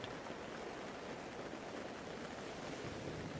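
Ocean waves roll in a continuous, gentle wash of surf, a broad steady rush with slight rise and fall, heard alone at a low, even level for a few seconds.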